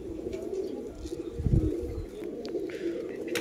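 Pigeons coo in low, throaty bursts inside a pigeon loft in R.S. Pura, Jammu and Kashmir, with a few soft chirps and steady background noise.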